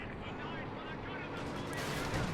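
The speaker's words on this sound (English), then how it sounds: "the machine gun is going to get walloped by this light arty barrage" A light artillery barrage rumbles through a Company of Heroes 2 battle, shells pounding near a machine gun position in a dense, continuous wash of blasts and gunfire that swells slightly toward the end.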